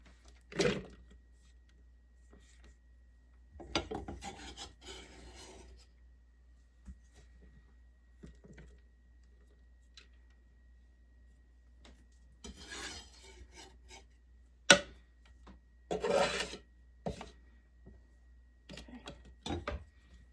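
Food processor cutting chilled fat for a fresh-milled mealy pie crust, heard as several short bursts of rough grinding and rattling separated by quiet pauses, with no talking.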